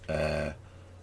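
A single short, close, resonant human burp lasting about half a second, with quiet room hum afterward.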